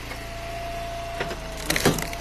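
Ash firewood being split, a sharp woody crack followed by a splintering burst near the end, over a quiet steady background hum.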